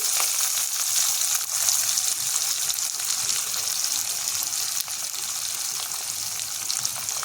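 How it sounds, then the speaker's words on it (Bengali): Chopped onion hits hot oil in a pan for pangas fish paturi, a loud, steady, close sizzle with a watery hiss throughout and no talk. "এরপর দিয়ে দিচ্ছি এখানে পেঁয়াজ কুচি"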